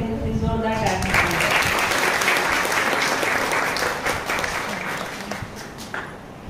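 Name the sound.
applause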